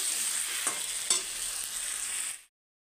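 Green chillies frying with chicken pieces in a pan, a bright continuous sizzle with a couple of stirring knocks, stopping abruptly near the end.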